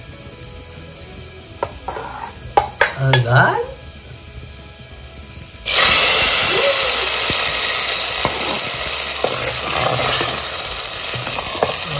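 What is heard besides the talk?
garlic tempering (phodni) sizzling in pan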